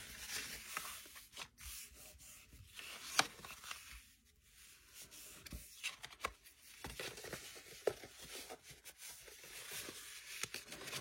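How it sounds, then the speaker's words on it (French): A tool scores fold lines into paper for a pop-up card box with soft, close scraping and rubbing strokes, broken by brief pauses and a few sharper ticks. "Je marque les plis sur l'extérieur de la boîte."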